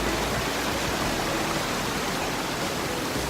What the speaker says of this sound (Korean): 이게 메인 폭포는 아니고 작은 폭포?